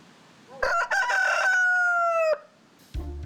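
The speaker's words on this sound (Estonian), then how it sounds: "Kukk Portos esitleb." Portos the rooster crows once on a farm during an open day at Allikukivi wine cellar, a loud, close cock-a-doodle-doo held for nearly two seconds and ending abruptly.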